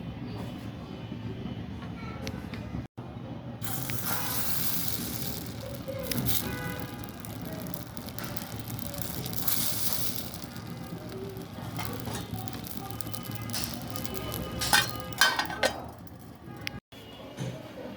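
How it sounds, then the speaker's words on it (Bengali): Rice-flour chitoi pitha batter poured into a well-heated iron wok for a winter breakfast gives a sudden sizzle that settles into a continuous soft hiss with faint clinks, close and moderately loud. "এখন পিঠার গোলা দিয়ে দিচ্ছি।"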